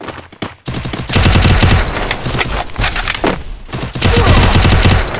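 Rapid automatic fire from a UMP submachine gun in a multiplayer shooting video game, loud sustained bursts with a brief pause, close and dominant with no talk over it.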